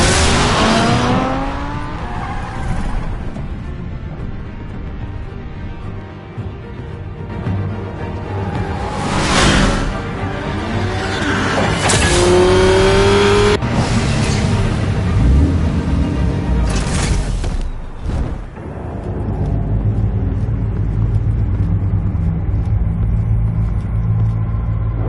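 A video game car drives with a sustained engine rumble, revving up and down over a long stretch, with occasional sharp tire squeals and impacts, loud and close.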